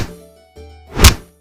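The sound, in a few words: beating and punching sound effect in comedy video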